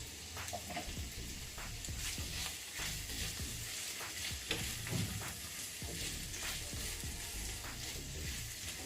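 Vegetables for veg korma cook in a pan with turmeric and salt, giving a steady close sizzle and frying hiss with soft stirring scrapes throughout, moderately quiet and free of speech.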